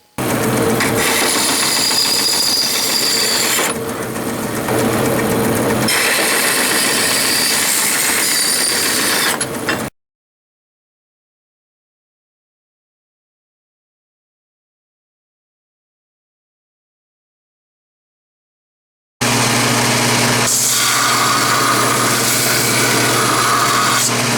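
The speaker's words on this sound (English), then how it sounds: "smooth that up just a little bit on the sander" A power sander whines and grinds against metal castings in steady bursts, stops for a long silence, then starts up again.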